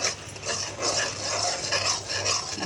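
Spice paste with turmeric and dried chili powder being stirred and fried in a pan, a steady scraping, rasping sound with soft sizzle running continuously throughout, with no talking.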